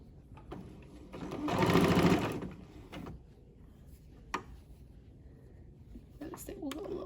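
A sewing machine runs one steady burst of stitching around a pant waistband with no backstitch, loud and close for about two seconds, followed by quiet handling clicks and taps of fabric and the machine.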